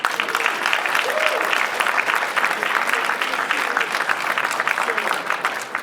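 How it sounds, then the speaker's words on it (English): Steady audience applause at a fireside chat during an influencer marketing event, dense clapping sustained throughout at an even level, with faint voices underneath. "Can we give them a round of applause?"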